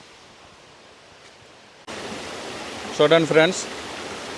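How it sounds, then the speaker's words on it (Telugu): Rushing water of a waterfall at Rampa falls in Maredumilli, a steady broadband roar that starts abruptly partway through and continues under a brief spoken voice near the end. "రంప వాటర్ ఫాల్స్లో ఇదొక వాటర్ ఫాల్ అండి"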